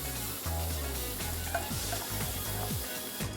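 Ginger-garlic-green chilli paste with turmeric and curry leaves frying in a pan for vada pav filling, a steady close sizzle with a few soft clinks and scraping stirs.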